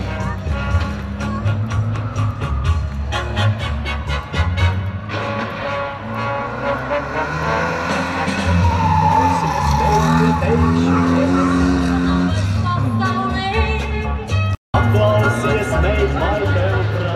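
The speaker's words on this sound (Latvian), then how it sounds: "Un šeit varonās braucējs ar 82. numuru Aleksandrs Sarokins." A rally car on a track runs loud and continuous, with engine roar and tyre skidding sounds, while a commentator talks over it throughout.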